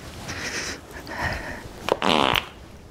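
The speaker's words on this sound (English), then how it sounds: "are you farting?" A fart-like sound from someone handling a vintage 1991 Beauty and the Beast sleeping bag, a short loud raspy burst after some softer rustling, close, with no talking over it.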